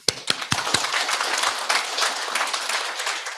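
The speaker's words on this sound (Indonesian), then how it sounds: "Tepuk tangan dong." An audience claps at an export coaching program event, opening with a few loud separate claps that quickly build into sustained dense applause.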